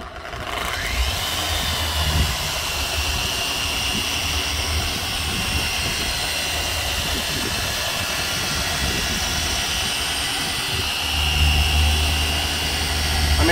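A HONE HNPR615B 15 mm dual action polisher runs steadily and loudly up close with a high whine over a rough low drone, shifting slightly as it is pressed.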